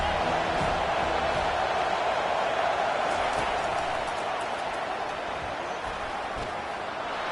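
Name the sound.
football stadium crowd cheering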